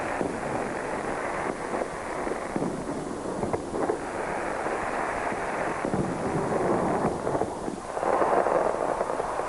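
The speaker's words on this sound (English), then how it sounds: "the city's biggest ever fireworks display lit up the sky over the River Owen" A large New Year fireworks display over the River Avon in Bristol, heard as a continuous dense rumble and crackle of bursts with wind buffeting the microphone, steady and loud for the whole stretch.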